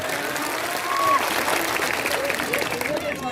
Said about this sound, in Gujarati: તાળીઓ પાડી લે એમના માટે જોરદાર.